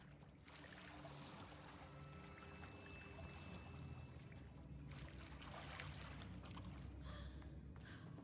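Water pours in the Hogwarts Legacy game, a steady faint rushing wash with soft splashy textures continuing throughout, without speech.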